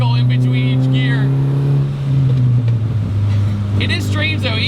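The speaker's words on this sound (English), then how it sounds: "I gotta like let it pause to do the crackle in between each gear" Modified 2.0-litre VW Golf race car driven hard, its exhaust droning steadily through a gear change with a brief pause and crackle between gears; a voice talks over the engine.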